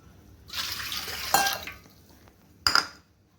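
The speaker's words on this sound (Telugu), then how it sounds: "రెండు కప్పుల నీళ్ళు" Two cups of water splash into a pot of ragi flour mixture in a short, gushing pour, followed by a couple of sharp metallic clinks against the vessel.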